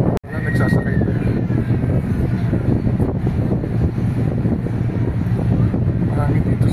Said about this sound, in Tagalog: Mahangin dito sa Lensa.